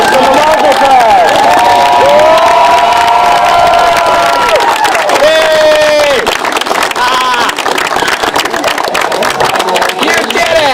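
Wedding guests clapping and cheering, with a crowd of loud whoops and shouts and children's voices rising over continuous applause, energetic and close throughout.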